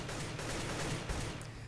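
Rapid tap-fired rifle shots in Counter-Strike: Global Offensive, a dense, continuous crackle of gunfire filling the whole moment at moderate loudness with no clear gaps between shots.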